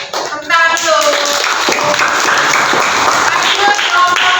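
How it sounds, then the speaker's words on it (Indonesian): Schoolchildren in a classroom clap for a student group after its presentation, with a burst of many hands that begins abruptly and carries on loudly, mixed with some voices and shouting. "Tepuk tangan dulu."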